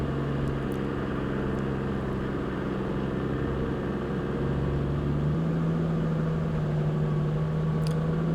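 A 4WD vehicle idles and crawls along a rutted forest track in a state park, with a low steady engine drone that shifts pitch partway through, heard at moderate distance without speech.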